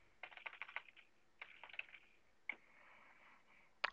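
A computer keyboard is typed on in short bursts of quick clicks, close and quiet, pausing between groups of keystrokes, with a final single key tap.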